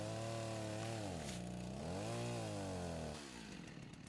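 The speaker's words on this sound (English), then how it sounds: "chainsaw is being used for what it was meant for" A chainsaw cuts into a tree, its engine droning loudly and steadily, the pitch dipping and rising as it bogs into the wood, then easing off near the end, with no voices.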